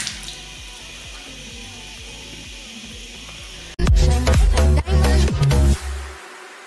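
Tap water runs steadily into a sink during face washing, a constant close hiss that is abruptly cut off by louder splashing and handling noises before fading.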